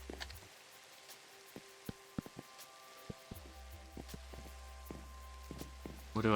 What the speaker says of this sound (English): This rain is not helping it look good.